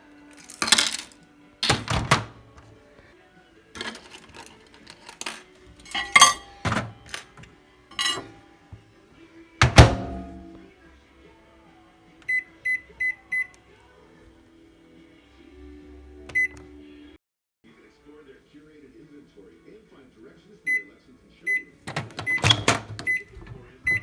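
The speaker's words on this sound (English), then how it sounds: "I'm going to let the microwave do it for me" A microwave oven beeps and clunks: loud knocks and thuds, a short low hum from the running oven, then sets of high electronic beeps near the end, with quiet gaps between.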